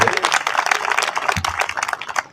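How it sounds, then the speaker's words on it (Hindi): Audience applause at a literature festival in Chittorgarh, a broad crowd of clapping that holds steady and fairly loud for a couple of seconds, with a voice audible over part of it. "एक बार जोरदार तालियां इनके लिए जरूर आप"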